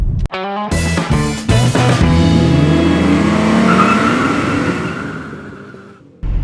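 A 2021 Honda City accelerates hard during a 0 to 100 test, its engine loud and close, rising through rapid gear changes into a long, climbing rev before easing off, with no speech.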